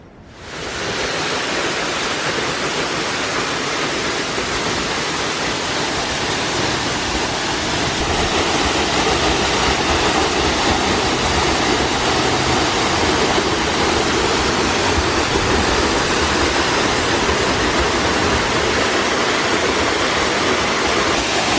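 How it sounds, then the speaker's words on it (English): A forest waterfall in Costa Rica roars in a steady, loud, unbroken wash of falling water, heard up close with no voices over it. "To see this waterfall, we had to go down"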